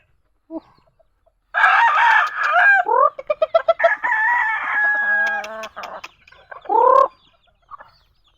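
Hens cluck and roosters crow loudly and close by on a chicken farm with many chicks, several overlapping calls with a final strong crow, then quieter clucking.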